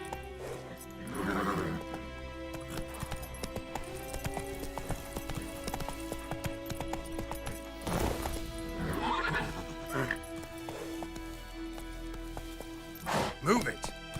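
Horse in The Witcher 3 game, hooves clip-clopping at a gallop with loud whinnies and neighs around the middle and end, over a busy game soundtrack; a rider spurs it on aloud.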